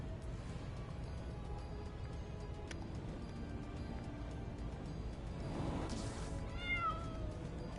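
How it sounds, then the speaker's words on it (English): Cat meowing in LEGO Marvel Super Heroes 2 video game, a short meow near the end rising over a quiet background of ambient game noise. "I hear the cat. I hear it."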